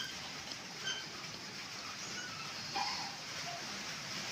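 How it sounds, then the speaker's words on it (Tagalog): Heavy rain falls steadily and evenly as a continuous broadband hiss, close and moderately loud, with a few brief brighter splashes over the steady downpour and no talk. "Lakas namin ng ulan, no?"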